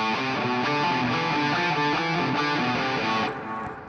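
A first anchor-shape finger exercise is played as a quick, evenly repeating run of bright plucked notes, loud and close, that fades slightly at the end with no talking.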